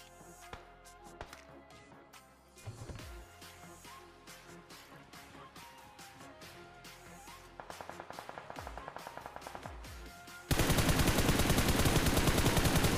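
Gunfire from a mobile battle royale game on a Samsung A3, a burst of rapid shots off to the left, then a loud dense stretch of fire toward the end, with no talking.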